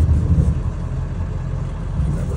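A Ford Power Stroke 7.3 diesel engine in a camper-conversion van idles close by with a deep, even rumble and a steady low throb. It runs alone with no talking.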